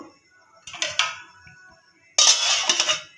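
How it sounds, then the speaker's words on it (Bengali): A metal lid goes onto a pot of eggs on a gas stove. There is a short clatter of clinks, a quiet pause, and then a louder burst of metallic rattling and hiss near the end. "এবার আমি গ্যাসটা অন করে দেব ঢাকা দিয়ে দেব"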